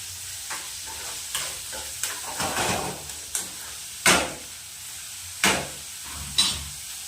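Cumin, onion and chilli tempering in hot oil, a steady sizzle and crackle broken by several sharp spoon clanks and stirring scrapes against the pan, close and clear with no talking.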